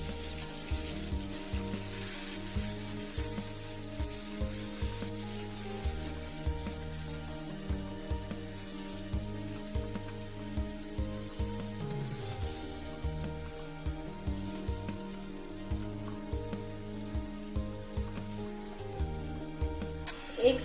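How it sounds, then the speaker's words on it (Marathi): Ground masala paste frying in a pan for chicken curry, a continuous close sizzle with faint rubbing and stirring sounds running steadily throughout, with no voices. "1 ते 2 मिनिट चांगला परतून घ्यायचं आहे."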